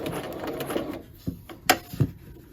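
Home sewing machine stitching a patch pocket along a curve, a busy rapid whirring run for about a second, then a few separate short mechanical clicks and thumps as the fabric is turned.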